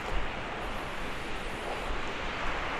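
Steady broadband rush of a waterfall in British Columbia, Canada, a constant roar heard from a viewing approach with no breaks or talk.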